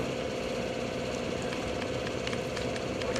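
A North American T-6 Texan (SNJ) taxis off the runway at a World War II airshow weekend, its radial engine a steady, distant rumbling drone with faint clicks and rattles, and no voices heard.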